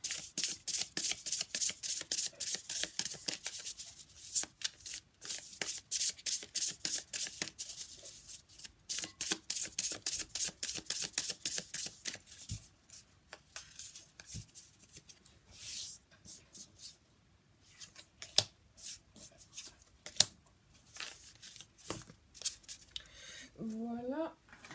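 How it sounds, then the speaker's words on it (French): Tarot de Marseille cards being handled and shuffled up close, a long run of quick, crisp riffling bursts in rhythmic clusters, then sparser single flicks and taps, with a brief voice near the end. "on va prendre une carte du tarot de Marseille"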